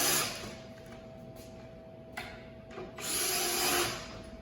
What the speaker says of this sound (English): on my drill I'm using a 3 setting, relatively tight